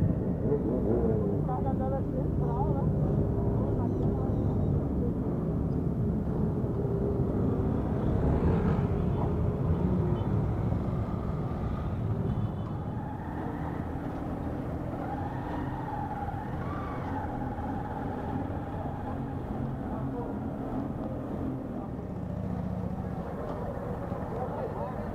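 Many motorcycles of various types and makes idle and rumble together at a rider gathering in Colares, Pará, Brazil, a steady dense engine din with passing revs that continues for the whole stretch.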